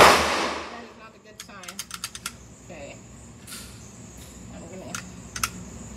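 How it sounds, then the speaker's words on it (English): A G3 XL firing steel ammunition at a shooting range: one loud shot at the very start that decays quickly, followed by small clicking handling noises and a voice speaking. "I had to shoot it again like I did last time."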